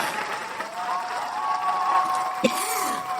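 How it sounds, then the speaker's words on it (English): An audience applauds steadily at a live comedy show, a dense wash of clapping with a sustained tone running beneath it and a sharp knock near the end. "Continue to clap for us. Keep clapping. Clap away."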